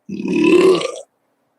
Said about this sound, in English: The real burp.